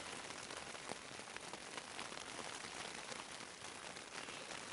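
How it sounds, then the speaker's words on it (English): Steady rain falling outside during a storm, a dense continuous hiss of drops on surfaces with no breaks, heard from inside shelter at moderate level. "hopefully you can hear the rain."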